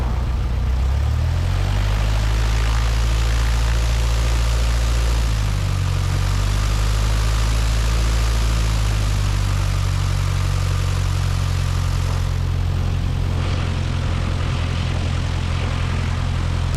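A Cessna 172 light airplane engine runs at a steady, loud, close drone throughout, with its pitch dipping and recovering around the middle and no voices over it.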